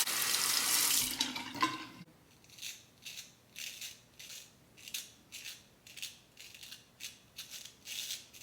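A bathroom tap runs briefly and loudly as a shavette razor is rinsed under it, then cuts off, followed by a steady series of soft rhythmic swishes and taps as the razor is shaken and rinsed.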